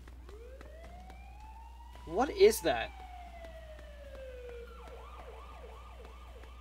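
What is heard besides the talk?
siren blaring in the video game Wanted: Dead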